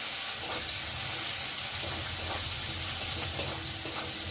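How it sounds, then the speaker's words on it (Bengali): Chopped onion fries in oil with cumin seeds and bay leaf, making a constant close hissing sizzle with soft stirring clicks and a small knock near the end. "পেঁয়াজটা একটু ভেজে নেব।"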